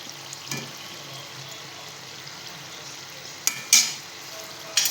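Sweet wheat flour snacks frying in hot oil give a faint, even hiss, with a few brief clinks and scrapes of a utensil near the end and no voices.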